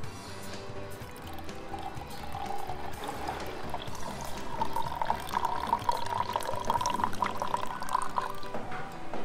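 Full-fat milk is poured into a caramel coffee, a steady liquid trickle and splash that continues for several seconds with a faint rising tone as the cup fills.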